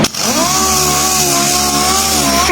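A power sander with 80 grit sandpaper works on car paint, giving a loud, close, steady motor whine with a rough grinding edge that lasts about two and a half seconds.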